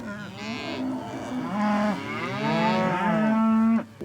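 Ranch cattle moo in long, drawn-out calls, several lowing bellows rising and falling in close succession, loud and near with no talk over them.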